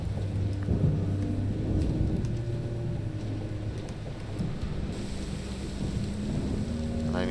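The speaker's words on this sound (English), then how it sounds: "Obviously got a storm brewing." Video game thunderstorm with steady heavy rain and low rolling thunder rumbling continuously throughout, loud and close, with no talk.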